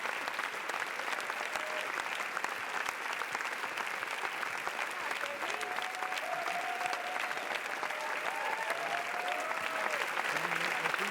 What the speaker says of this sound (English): A lot of applause before the film has even been shown.